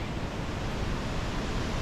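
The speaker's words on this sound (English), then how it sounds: "Pretty windy." A steady, dense rush of wind buffets the microphone throughout, a loud broadband roar with no breaks or voices, on the Australian Alps Walking Track between Walhalla and Mt McKinty.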